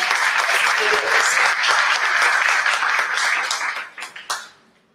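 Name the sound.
audience applause at catalogue launch event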